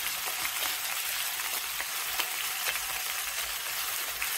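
Soaked dal sizzles in a pan of garlic cooked until pink over medium heat, a steady close hiss of frying with faint scrapes of stirring throughout.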